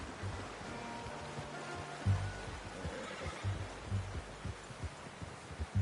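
Horse in Red Dead Redemption 2 giving a faint neigh amid soft low thumps of hooves and ambient game sound, quiet and intermittent with no talk.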